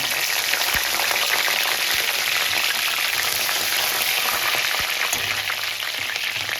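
Loud, steady sizzling of green chillies and curry leaves frying in hot oil, with a few soft knocks and clatters from utensils.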